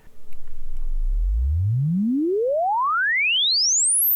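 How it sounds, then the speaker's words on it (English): A pure sine tone sweeps smoothly upward from a low hum to a piercing high pitch over about four seconds, played through an EHX Metal Muff Pocket distortion pedal, clean and steady with nothing else audible. "I'm trying to sweep a sine wave as opposed to something that's artificially squared off"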